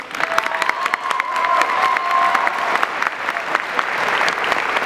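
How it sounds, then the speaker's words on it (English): An audience applauding trainees after a demonstration, a sustained burst of many hands clapping with some cheering, loud and dense throughout, with a faint whistle-like tone mid-way. "So I'll give them a hand of applause, please."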